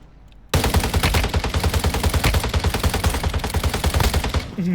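Rapid automatic gunfire from Warzone Mobile rattles in a fast, steady burst of closely spaced shots lasting several seconds, loud and close, after a brief quiet start.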